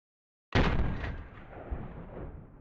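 Simonov AVS-36 rifle firing a single shot, one sharp loud report after silence followed by a long reverberant decay.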